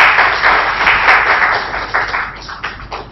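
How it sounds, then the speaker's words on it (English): Audience applause welcomes a speaker at a public lecture on hot dip galvanizing, a steady, fairly loud wash of clapping that thins out slightly toward the end. "if you'd like to give him a warm round of applause"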